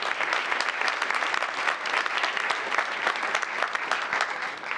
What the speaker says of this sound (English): Let's give Group 1 another big round of applause.